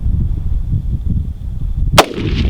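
A single sharp rifle shot cracks loudly during a prairie dog hunt, rising abruptly out of steady wind and field rumble and then trailing off in a brief echo.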